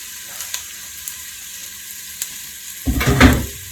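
Diced onion dropped into a hot pot for ham and beans, with a few faint clicks and then a loud burst of sizzling near the end that quickly settles, and no talking.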